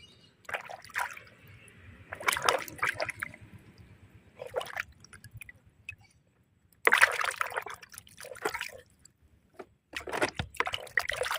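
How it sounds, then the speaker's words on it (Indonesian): Water poured over a freshly planted mamey sapote seedling in a garden, several separate bursts of splashing and trickling onto soil, each lasting a second or two with quiet gaps between, close by and alone. "Nah, kita siram aja sedikit."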